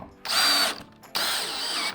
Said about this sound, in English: Pop our screws in there.